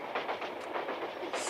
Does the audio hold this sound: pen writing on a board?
no